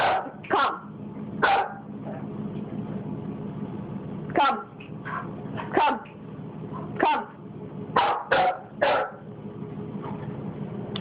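A dog barks and growls in repeated sharp bursts spread irregularly over several seconds, with a low growl running between them and a person's voice speaking nearby.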